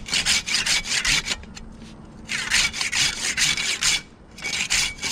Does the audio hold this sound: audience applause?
no